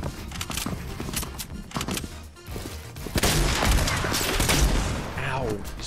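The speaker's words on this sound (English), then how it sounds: "Oh my gosh, I just sniped him." Gunfire in a Fortnite match, including a sniper rifle, comes as a burst of sharp repeated shots and then denser rattling fire and game effects, with voices talking over part of it.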